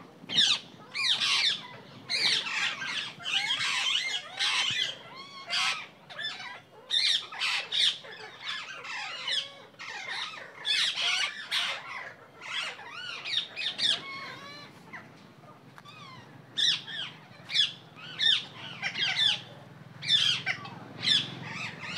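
Rose-ringed parakeets at Chhatbir Zoo, Chandigarh, give loud, harsh squawks and chirps in dense overlapping bursts, with brief lulls, close to the listener.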